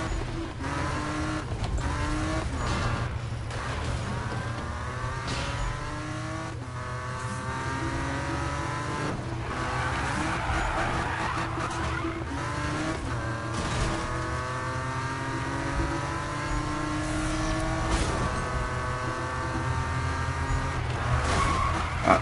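In the Need for Speed video game, a car drifts with the handbrake pulled, its engine revving and tires squealing in long repeated slides, loud and continuous with no talking.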